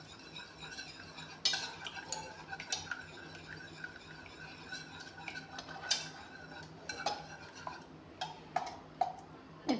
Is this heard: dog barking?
no